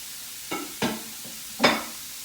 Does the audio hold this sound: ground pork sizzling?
yes